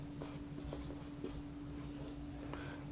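A pen scratches across paper as an Urdu word is written, a sequence of short, close strokes with brief pauses between them, heard alone over a faint steady hum.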